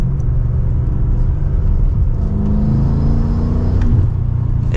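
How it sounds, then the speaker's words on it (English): Steady low V8 rumble from an F90 BMW M5 Competition while driving, a continuous close engine drone with a slight swell near the end, no talk. "just the sound that this V8 makes"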